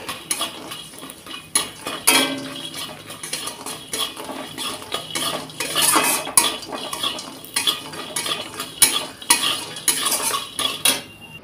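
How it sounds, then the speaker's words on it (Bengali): Lentil dumplings (bori) fry in a kadai while a metal spatula scrapes and clatters against the pan in quick, repeated strokes, loud and close over a faint sizzle. "এই বড়ি কটা আমি এখানে ভেজে নেব"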